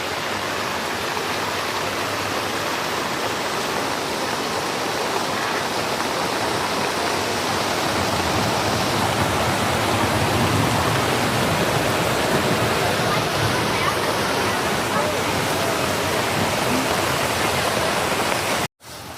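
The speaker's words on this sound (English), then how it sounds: "Still raining at the market. Everything's pretty soaked." Steady, heavy rain hisses and patters across surfaces at an outdoor art market, a dense continuous wash of sound that cuts off abruptly at the end.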